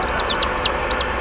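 Newly hatching chicks peep in an egg incubator: four or so bright, high, sliding chirps in a quick irregular run, close and clear over a low machine hum.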